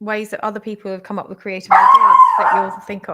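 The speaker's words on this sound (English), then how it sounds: "Sorry, that's my dog." A pet dog lets out a loud, drawn-out yelping whine that cuts in partway through, following a stretch of a person talking in a room.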